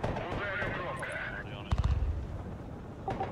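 A missile strike in the Broken Arrow war game lands as a short, rumbling burst of impacts amid steady battle noise, with people talking over it.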